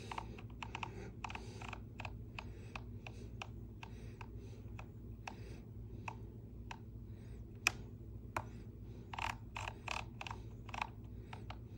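Keys typed on a computer keyboard during a transmitter setup for a Tiny Whoop drone simulator on macOS, a steady run of crisp, irregular clicks with occasional harder taps, close and alone over a low background hum.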